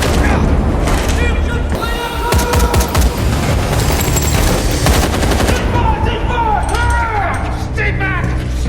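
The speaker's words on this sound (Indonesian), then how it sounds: "Adu tembak pun terjadi di sini." Gunfire crackles through a police shootout in a detective film, with dense bursts of rapid shots and booming reports layered over continuous loud action sound for the whole stretch.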